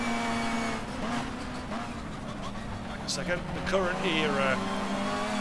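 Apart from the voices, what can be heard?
super touring car engine at high revs, Race 07 video game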